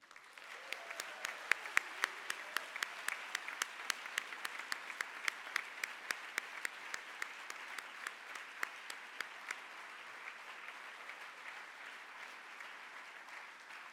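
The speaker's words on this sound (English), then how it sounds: "You deserve the loudest round of applause." An audience at a graduation ceremony gives a long, loud round of applause, dense clapping sustained throughout without pause.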